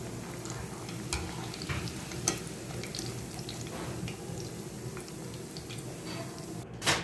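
Keema mince pakoras fry in oil with a soft, continuous bubbling sizzle and occasional faint pops and clicks, fairly quiet and without any talk.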